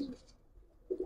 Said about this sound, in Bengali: কোয়ালিটি ফুল কবুতর।